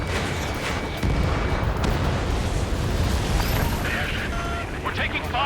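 Missile explosions boom in the Ace Combat 7 video game, a dense, continuous roar of blasts and rumbling fire that stays loud throughout. Faint radio chatter and a rising whine sit over it near the end.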